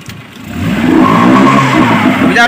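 A Suzuki Eeco van's engine revs hard and holds a strained, loud drone as the vehicle struggles to move on the road, rising after a brief dip and staying steady to the end.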